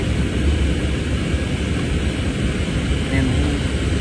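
An airplane coming in to land in Kerala makes a continuous low engine rumble and roar, fairly loud and steady throughout, with a slight swell near the end.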